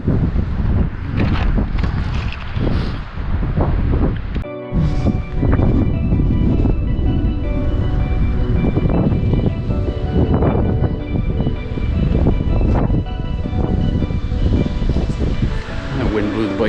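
Strong wind buffets the microphone on an exposed hilltop in the Irving Nature Park, Saint John, New Brunswick, on a winter day, a loud continuous low roar with gusts, briefly broken once, while a person talks over it.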